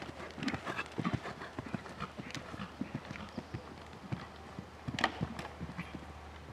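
Horse hooves clip-clop steadily on the ground during a training session, a quick, even rhythm of close but soft hoofbeats lasting throughout, with no voices over them.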